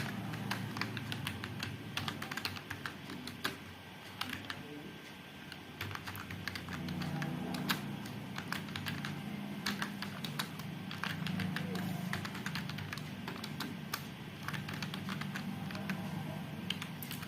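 Rapid typing on a computer keyboard in a desktop publishing program, dense irregular key clicks running throughout, close and steady, with a voice speaking softly underneath.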